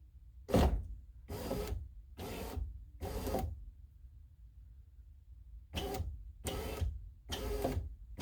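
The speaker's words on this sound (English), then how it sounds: "Now let's go up with the window" An electric power window motor from a universal kit in a 1989–95 GMC/Chevy C1500 pickup whirs in short separate bursts as the glass goes up, quiet and close, with gaps of silence between runs.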